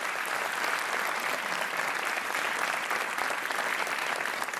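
A television game show studio audience claps steadily for several seconds, a dense even wash of applause that neither builds nor fades.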